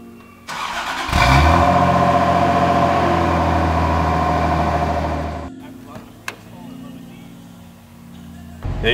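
A car engine cranks and catches close by, then runs at a loud, steady rev for about four seconds before cutting back to a quieter idle, with a few clicks and bumps afterward.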